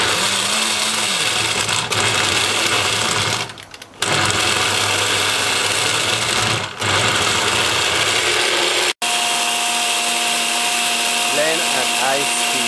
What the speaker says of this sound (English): Blend at high speed, blend well.